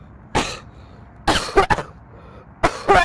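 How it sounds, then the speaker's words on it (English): A man coughs in three separate bursts spread through the stretch, the later bursts coming as rapid clustered hacks with some throat clearing, close and fairly loud over a quiet background. "followed by yet another coughing fit."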